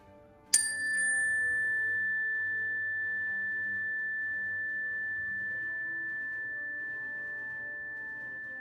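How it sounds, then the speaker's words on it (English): A single clear chime strikes once, ringing out as a pure sustained tone that slowly fades over several quiet seconds. "Please listen to the chime and give me a thumbs up when you can no longer hear it"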